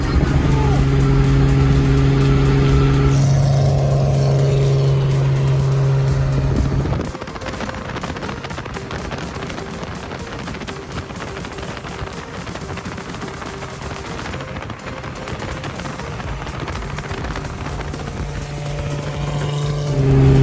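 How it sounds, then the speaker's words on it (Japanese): A Nissan Fairlady Z with an L-type engine, carburetors and a tall bosozoku-style exhaust runs loudly with a rough, rapid rumble, revving higher at first, then settling into a steady drone with fluctuating tone. "エンジンが調子いいです。"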